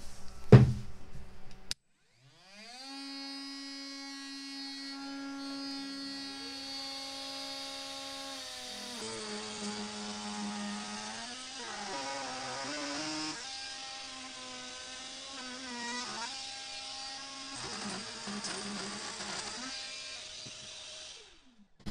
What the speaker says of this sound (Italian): adesso sempre con l'uso dell'aspiratore e con una fresa diversa, rifilerò tutto il perimetro di questo pezzo di pino di Svezia.